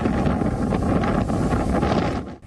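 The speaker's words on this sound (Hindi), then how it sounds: "तेज हवाओं का शोर है" Strong Cyclone Yaas winds buffet the microphone on the flooded Digha coast of East Midnapore, a loud, roaring gusty rumble with surging waves beneath, easing off sharply near the end; no speech.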